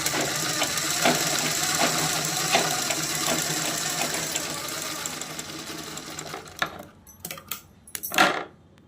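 A Pico sewing machine stitches in a rapid, steady mechanical rattle, close and loud. It slows near the end into a few separate clacks and a final whir.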